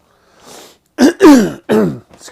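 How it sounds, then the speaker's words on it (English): A person clears their throat in several short, rough bursts, loud and close, with a quiet breathy lead-in beforehand and no other sound around it. "I'm clearing my throat all the time"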